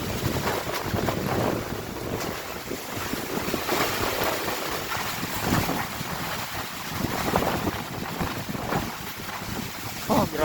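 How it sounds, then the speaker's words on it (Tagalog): Typhoon Kristine drives strong wind and heavy rain, a dense, continuous roar and rush with wind buffeting the microphone throughout and no letup. "napakalakas na hangin at saka sobrang lakas ng ulan"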